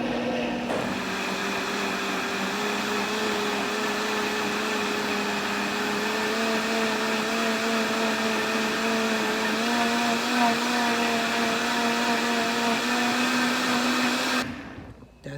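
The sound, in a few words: blender pureeing creamy tomato basil soup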